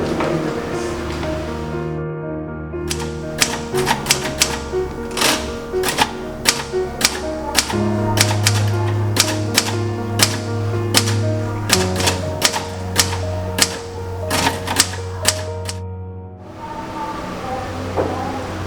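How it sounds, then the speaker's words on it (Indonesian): An old manual typewriter typing a script in a period setting of Indonesia's 1945 independence proclamation, with steady irregular key strikes, sharp close clacks over a continuous musical backdrop, no talk. "Saya itu tolong ketikkan naskah ini."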